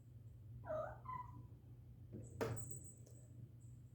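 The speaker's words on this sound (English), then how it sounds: "Pay no attention to the curious kitten." A curious kitten lets out a couple of soft, close meows, followed by a small bell jingling, all fairly faint over a low background hum.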